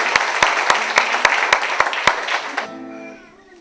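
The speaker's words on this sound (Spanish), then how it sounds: "Una fuerte palmas por nuestra música yaquichana, por favor, que se escuche fuerte." A concert audience claps steadily with sharp rhythmic beats standing out, then the applause fades into quieter background sound.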